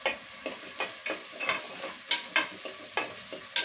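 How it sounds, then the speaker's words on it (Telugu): Onions fry in a hot pan, a soft continuous sizzle broken by regular scraping strokes as they are stirred about once every half second, close and fairly quiet. "ఆనియన్స్ని అయితే వేసేస్తాము."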